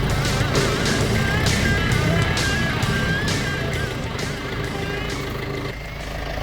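A steady tractor engine rumble runs throughout, loud and close, with a faint rising whine over it.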